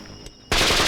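Gunfire from an action film: after a quiet half-second, a loud burst of rapid machine-gun shots erupts and continues without pause to the end.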